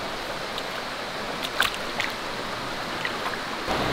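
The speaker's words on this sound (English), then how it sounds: "just in front of your tent, there is this nice river where you can dip inside" A river flows just in front of a tent at a glamping site in Ulu Yam, a steady broadband rush of water over stones, continuous and fairly close, with a few faint clicks on top.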